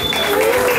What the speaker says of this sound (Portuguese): vamos aplaudir essa galera